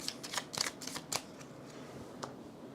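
Playing cards for the board game Covenant are shuffled up close in a quick burst of crisp riffling snaps, followed by a couple of fainter clicks as the deck settles.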